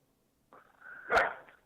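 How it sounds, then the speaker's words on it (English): A dog barks once indoors, a single short, fairly close bark preceded by a brief whine, with no talking. "Irving that's my dog, and I wish he would stop."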